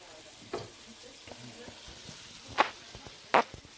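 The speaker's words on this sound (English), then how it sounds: "Don't know if you can hear it, but it's definitely sizzling." Chicken curry stir fry sizzles in a pan, a soft, steady frying hiss close by with a few sharp pops and spatters, quiet overall and free of talk.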